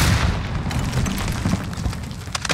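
A grenade blast in the video game Modern Warfare 2019, heard as a loud, dense boom that rumbles on through the whole short span amid battle noise.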